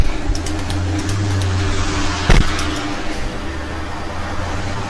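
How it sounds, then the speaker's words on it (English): Road traffic noise in Santa Barbara, California, a steady, loud roar of passing vehicles with a sharp thump partway through. "Noisy traffic."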